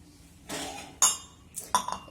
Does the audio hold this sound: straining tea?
yes